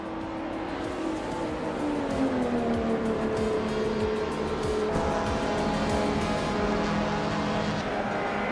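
A 1988 BMW 635 CSI race car at the Sitges Terramar circuit, its engine droning steadily with a rising and falling pitch as it accelerates and shifts, moderately loud with no talk.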